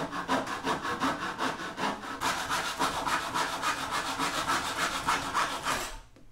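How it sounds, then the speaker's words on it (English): A hand back saw cuts through wooden trim in a steady, close rhythm of rasping strokes, roughly three per second, continuing for about six seconds before stopping abruptly. "That's a back saw."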